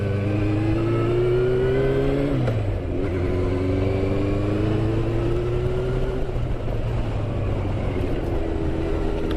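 A Yamaha FZS600 Fazer and a Yamaha TDM900 motorcycle climbing Hardknott Pass, engines droning loud and close under load, pitch rising steadily through the gears with a short dip at a shift, plus wind rush throughout.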